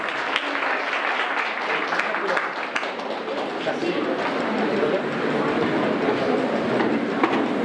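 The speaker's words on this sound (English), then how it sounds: "Can we have a huge round of applause for everybody in this hall for graduating with flying colors?" Broad, continuous clapping from a big audience in a hall at a law college degree-distribution ceremony, swelling slightly toward the end, with a rumbling, noisy texture underneath.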